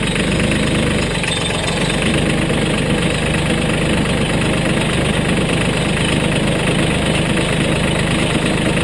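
A 2017 Mahindra 1526 tractor's engine idles nearby, a loud, steady, throbbing diesel rumble with a faint knock that continues unbroken and without voices.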